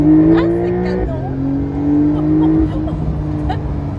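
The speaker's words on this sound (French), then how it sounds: "T'as vu, on voit le moteur, Génial. mais on l'entend aussi." A 2021 Porsche 911 S with 450 horsepower, running in sport mode, gives off a loud, steady engine drone with a pitch shift partway through. People talk over it.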